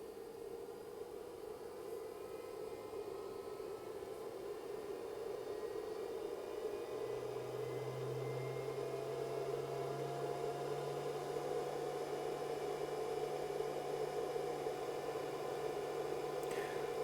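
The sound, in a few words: cooling fan of LiFePO4 battery charger running at full power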